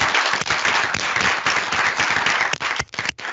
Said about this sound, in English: So a big applause to Richard